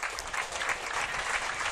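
Home crowd at an athletics meet in Hobart applauding sprinter Jack Hale, a steady dense clapping that holds evenly throughout from a moderate distance.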